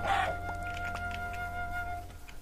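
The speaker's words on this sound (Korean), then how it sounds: "닭이다. 여기 닭이지, 닭 많죠?" Chickens in the video game Minecraft give a brief clucking call at the start, followed by a sustained tonal game sound over low background hum.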